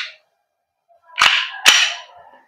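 Umarex Glock 17 Gen 5 MOS gas blowback airsoft pistol by GHK firing two sharp, loud cracks about half a second apart, each followed by a brief hissing tail, after a short faint sound and quiet gap.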